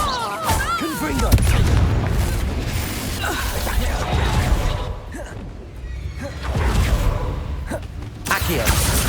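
A Confringo fire spell blasts in Hogwarts Legacy, giving a booming burst amid bustling game effects and a shouted spell-casting voice, with further magical whooshes and rumbles following.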